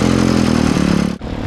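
Small Zoomer mini bike engine buzzing steadily at low speed while being ridden, a loud continuous droning putter with a brief dip near the end.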